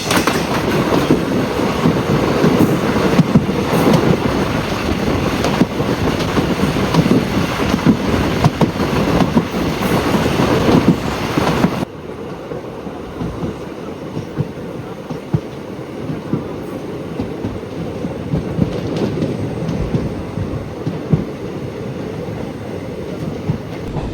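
An express train rolls into Udumalaipettai station with a loud, continuous rumble and rattle of wagons, easing off to a quieter, lower drone partway through as it slows at the platform.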